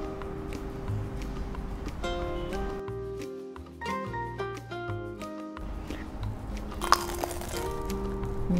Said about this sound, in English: So let's take a bite.